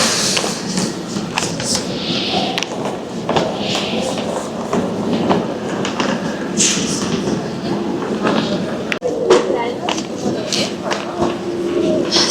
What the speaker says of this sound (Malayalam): Super fast train Italo. നമ്മൾ വന്ന അതേ ഇറ്റാലോ.